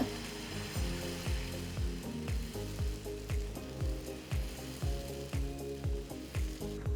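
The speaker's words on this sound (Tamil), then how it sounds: "ஸ்டோவ்ல ஒரு தவா வச்சு தவா சூடானதும் ஒரு கரண்டி மாவை எடுத்து ஈவனா ஸ்ப்ரெட் பண்ணுங்க." Oats dosa batter sizzling on a hot tawa, a continuous close hiss with a regular low rhythmic thumping pulse running through it, no talking.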